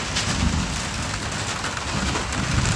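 Steady rain falls outdoors in a dense, even hiss of drops hitting surfaces, constant and close throughout with no voices.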